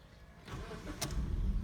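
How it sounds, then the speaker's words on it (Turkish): A 2006 Mazda 3 1.6 Sport engine is started, a short crank followed by a low rumble as it catches and idles, fairly quiet and close, no voices. "aracımızı bir çalıştıralım"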